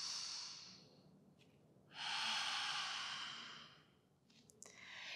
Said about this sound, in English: So you're breathing in through the nose, out through the nose, finding an audible sound with each inhale,